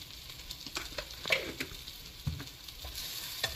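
Ground masala powder and turmeric frying in oil in a pan for a Tamil shark fish curry, with a quiet steady sizzle and repeated soft scraping stir strokes close by.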